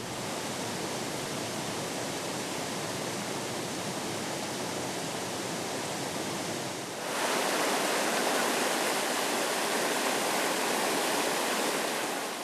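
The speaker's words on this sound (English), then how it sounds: "As the rivers flow downstream" Broad, steady rushing of a river flowing downstream in the Upper Tana catchment, a dense continuous wash that swells slightly louder partway through, with no voices.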